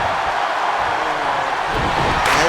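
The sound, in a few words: crowd cheering at a wrestling match in video game WWE 2K26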